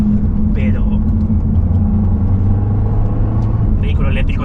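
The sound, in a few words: Volvo V60 Polestar engine sound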